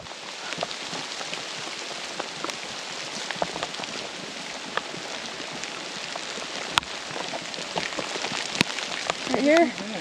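Heavy rain with hail pelts a hiking trail during a pack goat trip, a steady dense hiss of drops with sharper scattered hits throughout, close and loud, while faint voices occasionally come through underneath.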